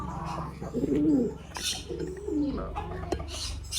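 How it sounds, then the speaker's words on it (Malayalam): Pigeons cooing softly nearby, several low rolling calls overlapping, with light rustles and a faint clack in the background. "ഒരുപാട് വെറൈറ്റീസ് പ്രാവൺ കൂടെ സെറ്റാക്കിയിട്ടുണ്ട്"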